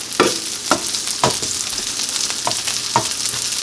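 Schafer baloney sizzles in a frying pan, a loud steady crackle broken by sharp spatters and pops every half second or so, close up.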